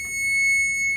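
Fire alarm sounding during a system test, a steady piercing high-pitched tone held continuously and loud over faint low background rumble.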